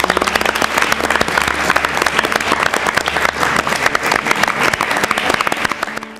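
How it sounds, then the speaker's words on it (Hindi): An audience at a state-level election quiz show applauds the competing teams, with dense, steady clapping throughout. "मैं सबके लिए तालियां बजवाना चाहूंगा।"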